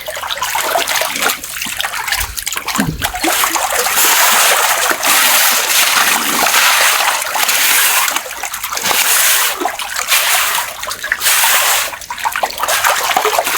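Catfish thrash and splash in a washing tub, sending up continuous loud sloshing and splattering water with sharp bursts of spray, close by and steady throughout.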